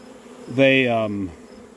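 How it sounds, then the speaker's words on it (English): A single honeybee buzzing near an open hive in mid-August, a close, loud, steady droning hum lasting under a second before dropping away. "The bees now are going back, and they're filling with honey or with nectar faster than she can come back around and lay eggs."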